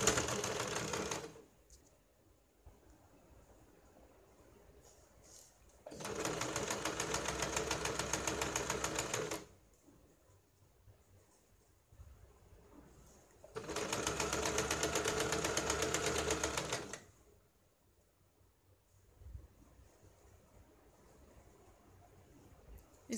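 A sewing machine stitches along a double-folded handkerchief hem in two loud, steady whirring runs of about four seconds each, separated by quieter pauses with faint handling of the fabric.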